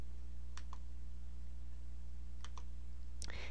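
A few sharp, close computer mouse clicks, spaced irregularly over a constant electrical hum, while selecting a category in a WordPress menu; no speech.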